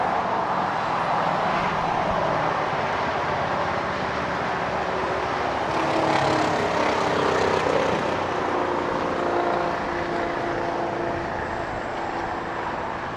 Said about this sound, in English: So it is on its way indeed to Papeete on that 7879 Dreamliner. Flight 7 of Air Tahiti Nui.